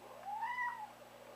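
A male cat lets out one drawn-out, rising and falling meow, fairly soft and close, alone over a faint steady hum in a quiet room.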